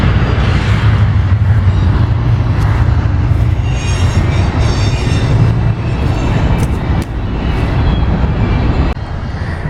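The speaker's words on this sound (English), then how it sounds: "I ran from the Jeep through the brush to film the train coming in" A train rolls in and passes close by near a river in Boca, California, a loud, sustained rumble of wheels and wagons with rattling and squealing accents that holds steady and eases slightly toward the end.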